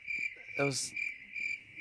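Crickets chirp in a steady, high-pitched pulsing rhythm, inserted as a sound effect after a joke falls flat, with a short burst of a lower buzzing noise partway through.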